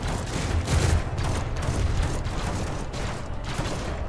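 Sustained volley of gunfire from a character in the video game Warhammer 40,000: Rogue Trader, a dense continuous crackle of rapid shots with heavy low rumble, steady and loud throughout with no voices.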